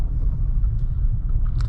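A 2015 Mercedes-Benz S550 pulls away and drives, a steady low rumble of engine and road noise from inside the cabin, smooth and continuous with no talk.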